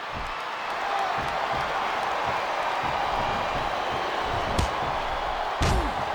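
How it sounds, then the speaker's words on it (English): Steady, dense arena crowd roar from the WWE SmackDown vs Raw 2007 video game during a Batista vs John Cena Iron Man match, holding loud throughout with a couple of sharp slam-like thuds near the end. "Listen to the crowd, JR."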